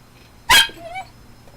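A dog named Sadie gives a single sharp, loud bark close by, followed by a short whimpering tail, with quiet background otherwise.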